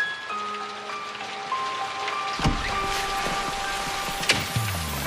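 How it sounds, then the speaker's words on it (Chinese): Heavy rain pours steadily outside as a dense, continuous hiss, with a few louder thumps and faint tonal background sounds, and no one speaking. "这雨还不小呢。"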